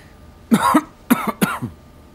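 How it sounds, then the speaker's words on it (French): A man coughs in three harsh bursts, close to the mic, the first one drawn out and the next two shorter, with quiet pauses between them. "C'est normal qu'il tousse comme ça?"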